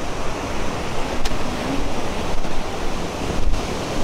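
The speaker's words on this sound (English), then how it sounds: "I made it down to the beach." Ocean waves roll onto the beach at Atlantic City, a continuous loud surf wash with gusty wind buffeting the microphone.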